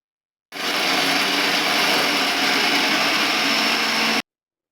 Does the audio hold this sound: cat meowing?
no